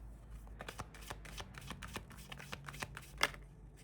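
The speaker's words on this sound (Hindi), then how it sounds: "ओके, मैं 3 कार्ड्स निकालूंगी।" Tarot cards shuffled and drawn for a monthly reading, with a steady run of crisp riffling and soft flicks close by, then a sharper snap near the end as cards are pulled from the deck; no talking.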